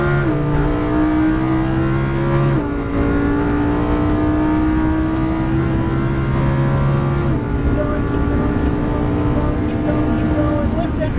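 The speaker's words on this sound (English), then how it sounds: "Slowly squeeze that gas pedal and all the way down and go" A car accelerating hard on a driving track, the engine revving loud and close through rising gear pulls with brief dips at shifts, filling the whole stretch without pause.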